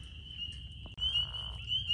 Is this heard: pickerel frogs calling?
yes